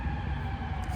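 An ambulance siren wails in the background of a Watts neighborhood, steady and moderately loud, mixed with low rumbling street noise.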